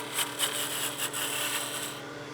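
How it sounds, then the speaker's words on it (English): A skew chisel makes a peel cut on wood spinning on a lathe, giving a close, steady shaving hiss with rhythmic rubbing swells and a faint motor hum underneath. "I'm going to use my skew as a peel cut to give me that nice little foot."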